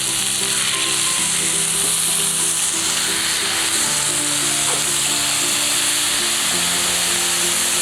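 Loud, continuous sizzling and crackling as a little water hits chicken roasting in a pan outdoors, a steady dense hiss filling the whole stretch with a faint hum beneath.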